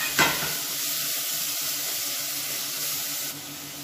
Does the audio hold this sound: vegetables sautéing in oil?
yes